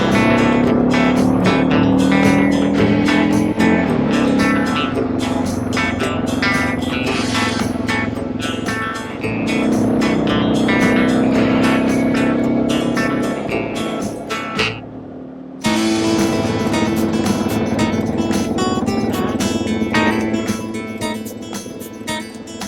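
A Suzuki DR650 motorcycle rides from a highway onto a dirt road in Queensland's Great Dividing Range, its engine droning loud and steady with rising and falling revs, wind rush, and a brief cut near the end.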